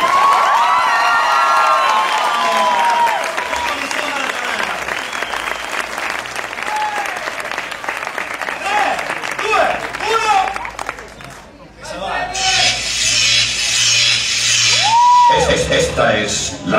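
Audience applauding and cheering at an end-of-year dance recital at the Cohiba Club in Parma, with loud sustained clapping, whoops and crowd shouts, then music and a voice over a PA toward the end.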